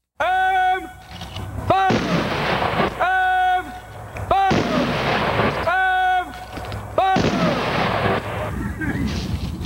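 Volleys of a 21-gun salute ring out at a Memorial Day veterans ceremony at Washelli Cemetery in North Seattle, several loud sharp rifle cracks spaced a couple of seconds apart, each trailing into outdoor echo.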